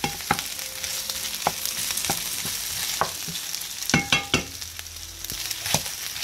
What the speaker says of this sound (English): I'm gonna break the sausage down.